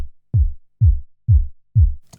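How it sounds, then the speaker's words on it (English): Four evenly spaced techno kick drum hits using only the sub layer with the top end removed, each a deep booming thump with a pitch drop and no click, loud and alone. "On the kick sub layer, you, for example, remove the top end completely."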